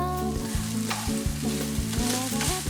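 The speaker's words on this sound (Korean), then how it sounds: "마당에서 갓 따온 싱싱한 허브에 제주산 마늘을 넣고 파스타를 볶는다" Pasta stir-fried in a pan with freshly picked garden herbs and Jeju garlic, sizzling steadily up close with repeated scraping and tossing strokes of a utensil against the pan.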